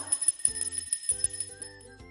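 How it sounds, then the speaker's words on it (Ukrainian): Musical bells ring out in a bright sequence of clear metallic strikes with sustained tones, played by hand at a children's music lesson in a kindergarten, each note sounding close and distinct. "а музичні дзвоники грають ось так."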